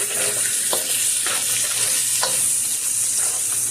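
Spicy chicken noodles sizzle loudly in a pan while two spoons of ketchup are stirred into the sauce. Constant hissing frying runs beneath a few soft scraping stirs.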